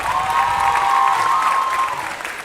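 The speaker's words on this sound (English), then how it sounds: "Give it up for the lovely and talented Hen on the Viper violin." A school audience at an electric strings concert claps for a violinist, steady close applause with a sustained tone ringing underneath.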